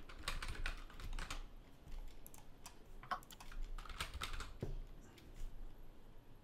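Quick, uneven keystrokes on a computer keyboard as a Minecraft command is entered, close and fairly quiet clicking in short clusters with no voices.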